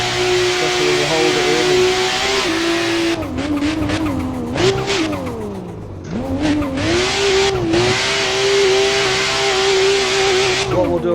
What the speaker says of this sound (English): I just like the sound of the 2J. It's got a really nice sound to it with this sort of screamer pipe noise